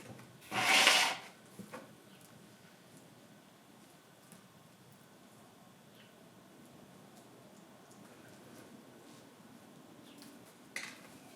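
A Japanese black pine bonsai is worked out of its pot with a single brief, scraping rub of soil and roots against the container, followed by near silence with faint handling noises.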